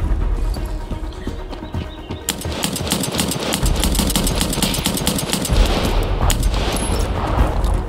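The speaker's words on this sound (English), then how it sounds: "Now I've just dumped a load of tracer rounds" Automatic gunfire firing tracer rounds in Escape From Tarkov rattles in loud, rapid, continuous bursts that run for several seconds, close and dense, with no talking over it.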